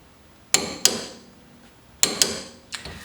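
A torque wrench tightening the tie rod on a Porsche Cayman 987, giving sharp metallic clicks in pairs and a final cluster, each ringing briefly before fading, close up in a quiet workspace.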